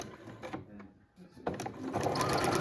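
A sewing machine switched to high speed runs flat out with the foot pedal fully down, a continuous whirring, rattling drone that builds from a slower start into a loud, steady close-range run.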